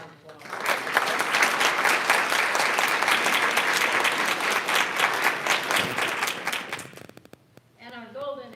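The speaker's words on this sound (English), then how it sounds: "Give them one more round of applause." A room of attendees at a school board meeting breaks into sustained applause, dense clapping lasting about six seconds before fading, followed by a voice starting to speak.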